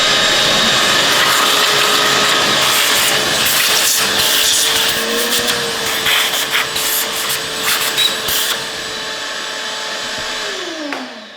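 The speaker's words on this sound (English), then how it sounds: "vacuum cleaner." Vacuum cleaner used to clean out a 5.7L Hemi engine during assembly, a steady loud whirring drone running almost the whole time, with brief rubbing and bumping noises partway through and a falling pitch as it winds down at the end.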